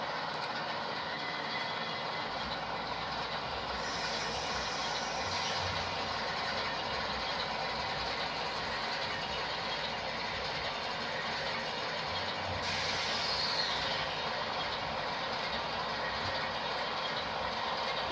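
An ES44AC model locomotive fitted with a ZIMO sound decoder runs at notch 1, giving a steady low diesel rumble with faint mechanical clatter throughout, fairly quiet and with no talking.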